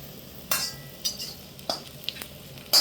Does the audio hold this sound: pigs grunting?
no